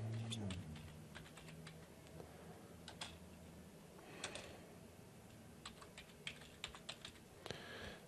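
Keys clatter on a computer keyboard as a playlist name is typed, quick irregular bursts of close, light clicks with short pauses between them over a quiet room background.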